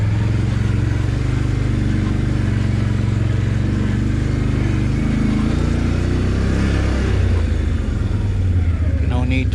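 Off-road vehicle crawling along a dirt trail in low gear, a steady low engine rumble with a slight rise in revs partway through, close and continuous throughout.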